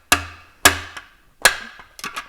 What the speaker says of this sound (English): Do you want to hit that with a hammer?